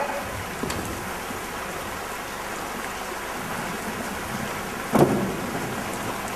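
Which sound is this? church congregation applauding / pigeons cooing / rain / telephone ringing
rain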